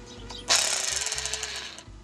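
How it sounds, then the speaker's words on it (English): A power drill with its bit held against a vinyl aluminum threshold buzzes in hammer-like vibration without spinning to mark a center point, one loud rattling burst lasting over a second, close by. "I'm gonna set the drill bit at my cross hairs and just give it a little vibration, no drill spinning"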